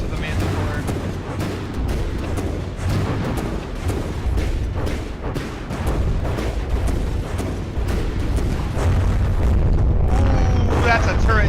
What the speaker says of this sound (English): Ooh, that's a turret detonation.